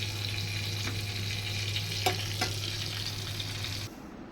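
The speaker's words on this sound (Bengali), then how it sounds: "মন্দের ভালো চিকেন ফ্রাই, যেমন পারছি আমি তেমনই করছি" Chicken fries in a pan with a steady close sizzle, a low hum running underneath and a few light clinks of stirring, until the sizzle drops away near the end.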